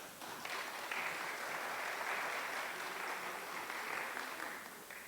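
Audience applause for a speaker at a cultural heritage meeting, a steady wash of many hands clapping that swells after a brief start and holds evenly before tapering off.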